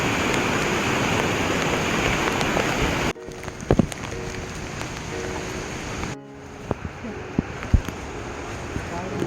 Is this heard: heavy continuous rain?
yes